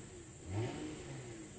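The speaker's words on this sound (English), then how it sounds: "I'll give it a little rev here so you can see." A 1997 Toyota Chaser Tourer S inline-six engine with stock exhaust revs once, briefly and moderately, then drops back to a steady idle with a constant high whine.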